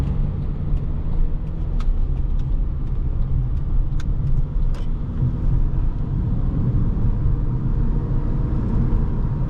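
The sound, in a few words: 2009 Honda Accord LX driving on the road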